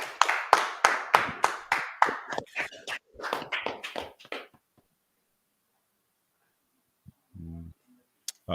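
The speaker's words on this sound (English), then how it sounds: "clap it up" Several people clapping together in quick, uneven bursts for a few seconds, then the claps thin out and stop, leaving quiet broken by a short voice near the end.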